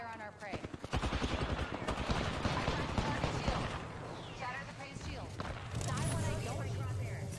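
Video game gunfire crackles in rapid bursts and volleys, loud and dense, with players talking over the shooting.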